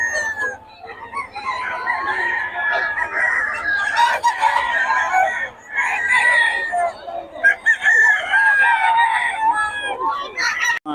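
Gamecocks for sale crow and cluck together in a crowded yard, a loud overlapping chorus of crowing roosters that continues throughout.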